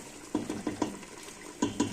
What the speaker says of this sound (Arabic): نخلطوا المكونات كل مع بعضها ونخليوها يتقلى شويه